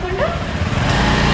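A two-wheeler engine runs loud and close as a learner rider accelerates, a steady throaty drone with a brief rising whine near the start.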